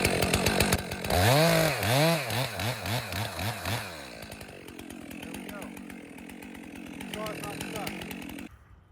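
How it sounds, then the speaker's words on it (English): Chainsaw bucking a firewood log, loud and close, the engine revving up and down in repeated surges before settling into a steadier cutting drone that cuts off abruptly. "it's going to pinch on the saw once I break through, and I'm going to be stuck"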